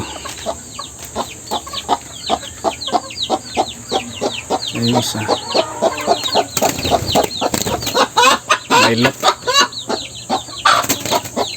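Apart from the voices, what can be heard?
chickens clucking, young rooster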